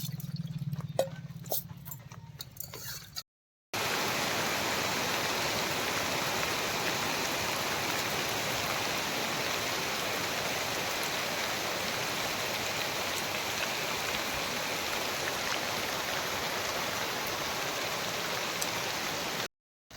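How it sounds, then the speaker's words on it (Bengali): Rain falling outside in cold weather, a dense, steady hiss of drops on surfaces that sets in after a brief quieter start and continues evenly for the rest of the clip. "দেখুন বন্ধুরা কি বৃষ্টি হচ্ছে দেখুন এই ঠান্ডার সময় আবার বৃষ্টি হচ্ছে"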